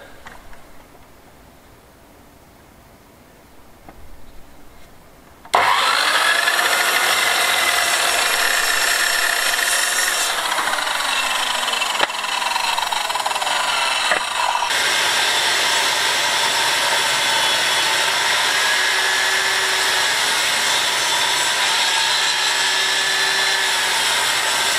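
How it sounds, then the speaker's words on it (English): Power saw cutting wood pieces to length during a rural finca renovation: after a quiet start the motor spins up abruptly and whines loudly and steadily, with the tone dipping as blades bite into timber. "get them cut to length, rip another piece down to make the ledges with"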